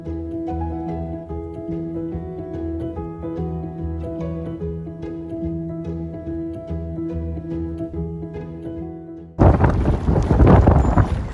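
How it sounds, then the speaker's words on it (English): A narrowboat's low droning engine hums steadily while cruising the River Nene, then harsh wind buffeting the microphone roars in loudly near the end. "The weather was so windy it was pointless trying to speak over the top."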